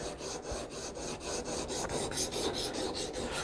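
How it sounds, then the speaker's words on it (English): A blade bevel is ground during sharpening, giving a close, steady rhythmic rasp made of repeated even strokes at a quick pace, with no talking. "So as you can see, I'm grinding down a little bit and it's getting close."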